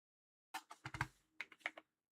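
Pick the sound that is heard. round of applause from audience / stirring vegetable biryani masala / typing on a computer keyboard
typing on a computer keyboard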